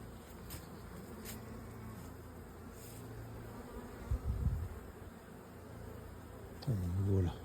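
Bees buzz close by, their drones rising and falling as they fly past, with a few low voices and bumps in the background.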